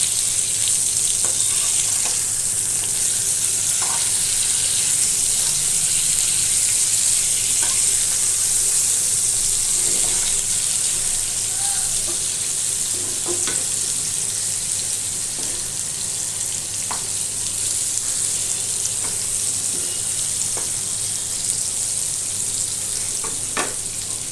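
Ravas fish topped with garlic shallow-fries in a pan over a medium-low flame and is turned over. A loud, constant hiss of sizzling oil fills the clip, with sparse soft clicks from the spatula.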